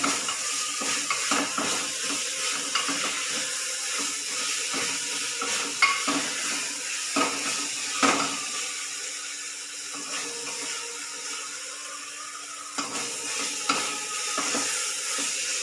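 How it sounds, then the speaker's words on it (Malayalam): Chopped green chillies, split in two, hiss and sizzle in hot oil for an egg curry, with a spoon stirring and scraping the pan in irregular bursts close by. "ഇനി നമുക്ക് 4 പച്ചമുളക് ഞാൻ അരിഞ്ഞത് അതിടാം."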